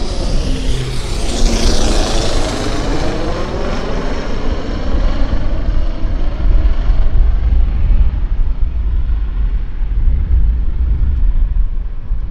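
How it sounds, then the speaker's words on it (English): A Beechcraft 1900 propeller airplane, likely a Pacific Coastal flight, roars in low overhead near an airport. The loud engine drone sweeps through a pitch shift as it passes, then slowly fades away. "I've got a Beach 1900 coming in on top of me here"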